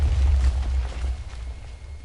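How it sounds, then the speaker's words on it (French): Deep, rumbling booms from bombs exploding in Minecraft with the More Explosives mod, a low continuous roar that rolls on for about two seconds and fades slightly, with no talk over it. "On les lance, boum, ça explose."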